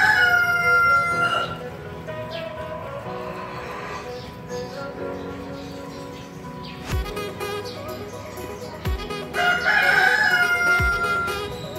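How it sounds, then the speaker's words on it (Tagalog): A rooster crows a few times at moderate distance, long rising calls that stand out over a busy outdoor background of motorcycle-shop noise, with a few sharp knocks in between. "At manok ang naririnig natin."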